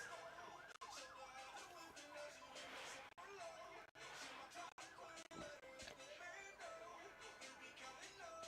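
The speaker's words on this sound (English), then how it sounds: "I just heard so many sirens." Several emergency vehicle sirens wail in the distance, their rising and falling tones layered over one another and sustained throughout, faint under nearby background noise.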